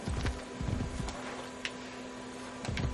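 Horse hooves clip-clop steadily in Assassin's Creed Brotherhood, a rhythmic run of near, moderately loud hoofbeats over a constant hum, with no talk.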